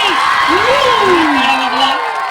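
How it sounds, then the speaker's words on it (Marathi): Crowd at a high school event cheering and clapping for the choreographer team, a loud wash of applause and whoops with a voice rising over it. "एकदा जोरदार टाळ्या होऊन जाऊ दे आपल्या कोरिओग्राफर टीमसाठी"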